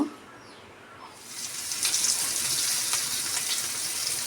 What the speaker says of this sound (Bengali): এই যে এই ফ্রাই প্যানে ইলিশ মাছ ভেজে নিব